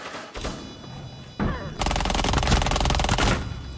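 Video game gunfire comes in bursts, with a few single shots followed by a longer loud stretch of rapid automatic fire, close and harsh.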